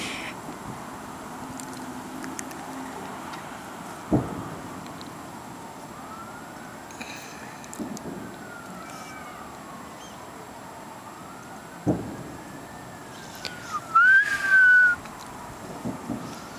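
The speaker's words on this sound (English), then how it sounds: "At least the fire truck sirens are going away, not coming towards us." Fire truck sirens wail at a distance on a city street, rising and falling over a steady background rumble, with a few sharp knocks and a brief louder chirp near the end.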